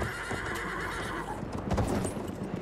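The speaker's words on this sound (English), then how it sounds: "That's a horse." A horse in the World War I shooter Battlefield 1 lets out a loud whinny over a steady wash of battlefield background noise, with hoof clatter mixed in.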